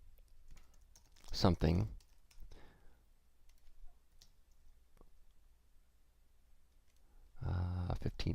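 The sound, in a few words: typing on a computer keyboard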